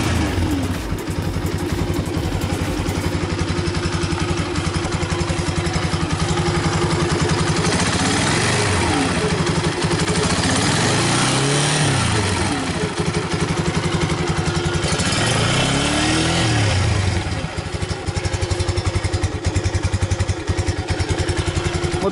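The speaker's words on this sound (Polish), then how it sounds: "Motocykl jest jeszcze nierozgrzany, ostygnięty, także troszeczkę nierówno pracuje." A Romet ZXT 125 motorcycle idling unevenly while still cold, its engine chugging and clattering close by with a wavering, irregular rhythm that rises and dips over a long stretch, without any voices.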